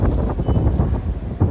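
Steady, loud wind buffeting the microphone, a constant low rumble with gusty surges throughout and no voices.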